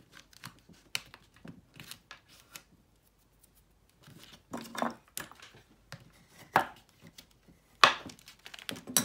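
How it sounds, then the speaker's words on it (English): Paper being creased and handled while assembling a door hanger envelope: a series of short, close crinkling and pressing strokes in irregular bursts, louder toward the end, with no talk. "This needs to be creased."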